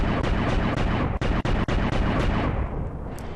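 Heavy weapon fire in a VR mecha robot action game plays as loud, dense booming blasts with a few sharp cracks, fading slightly at the end, with no talk.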